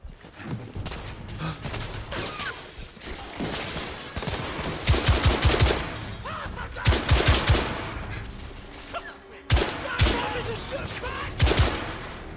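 Enemy gunfire rattles in The Order 1886 video game: bursts of rapid shots and single cracks come in waves across the scene, fairly loud, with a few shouted voices mixed in.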